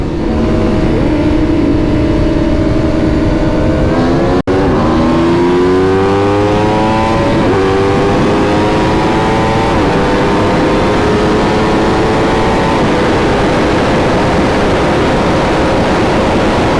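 A 2022 Aprilia RSV4 Factory superbike at speed on a racing ride, its engine droning loud and steady, pitch climbing and shifting through gears, with a sharp click partway through and no talking.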